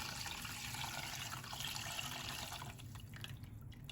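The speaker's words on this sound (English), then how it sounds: "I'm gonna go ahead and add a little bit more of our chicken broth." Chicken broth pours steadily into a pot with a continuous splashing, trickling rush, close by and fairly loud, with no voices.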